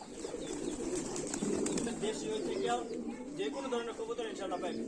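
Pigeons coo in low, rolling murmurs, several birds overlapping continuously, while a person talks nearby.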